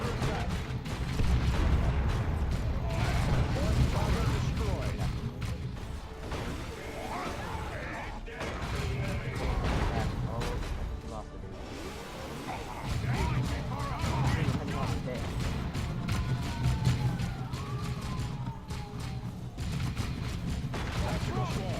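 Dense gunfire, explosions and clattering combat from a Warhammer 40k: Dawn of War 2 battle with tactical squads and grenades, continuous and chaotic, with brief lulls and some speech mixed in.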